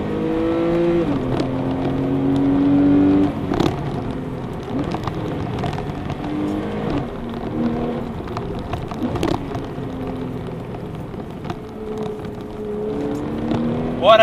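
A Porsche 991 Targa 4S with all-wheel drive cruises along a scenic road, its engine droning steadily with clear rising and falling gear tones and road and wind noise throughout, plus a few sharp clicks and bumps.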